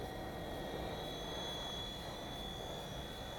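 A WL Toys V911-pro upgraded four-channel RC helicopter flying close by at full throttle, its steady whirring motor and rotor drone running continuously with no break.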